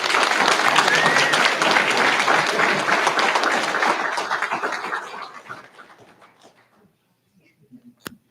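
A school board meeting audience applauds a Rock Springs student, an all-state honoree. The dense clapping and a few voices hold steady, then taper away over several seconds into near silence, ending with a single sharp knock.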